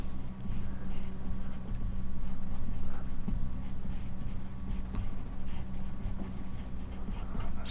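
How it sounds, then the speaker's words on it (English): Graphite pencil sketching on paper as trees are roughed in along a creek line in a country-road drawing: continuous close scratchy strokes with short pauses, over a steady low room hum, with no talking. "Just pencil them in."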